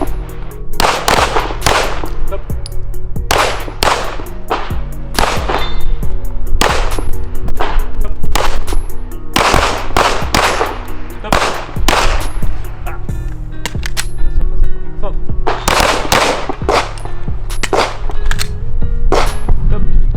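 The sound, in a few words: gunfire during a shooting training session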